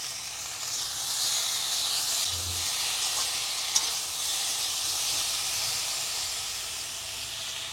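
Green banana slices frying lightly in a pan, a steady close hiss and sizzle running unbroken throughout with no talk.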